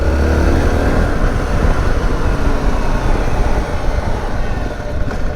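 A Zontes T2 310 motorcycle engine runs steadily and close, a continuous throaty drone with slight rises and dips in revs, heard alone without talk.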